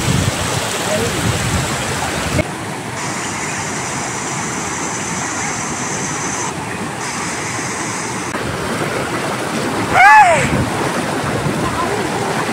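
Steady, heavy rushing water pours continuously over the weir of a large, full village lake, a loud broadband roar, with a brief whistle-like tone near the end.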